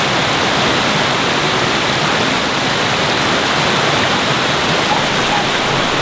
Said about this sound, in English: I basically shoved the bag in a rushing stream just to see what happened